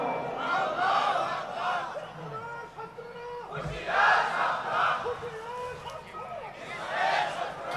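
A crowd at a religious speech chanting slogans in loud rhythmic waves of many voices, swelling and falling, with a voice speaking over it in between.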